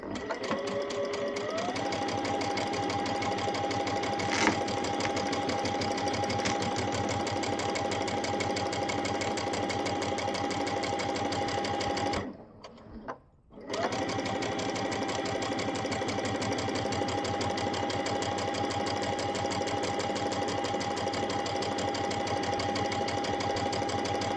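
A sewing machine hums steadily as it stitches quilt pieces along a Sew Straight guide, its motor whir running continuously with a brief pause about halfway before picking up again.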